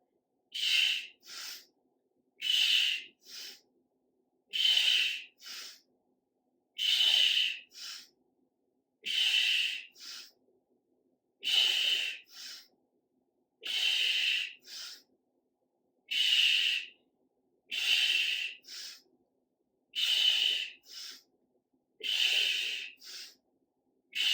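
Heavy rhythmic breathing during a chair arm workout: strong, breathy exhales and inhales in a steady paired cadence, repeating about a dozen times, close and loud with silence between breaths.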